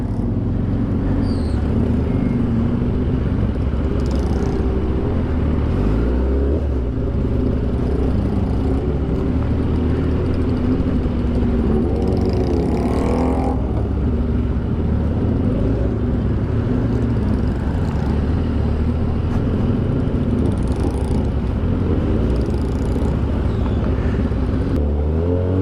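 Road traffic in heavy congestion fills the scene with a continuous low rumble of car engines, steady and close, with occasional louder revs and passing vehicles.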